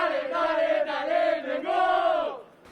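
Flamengo supporters greeting their team's arrival in Argentina, a crowd chanting in unison with long sustained sung phrases that rise and fall before fading out.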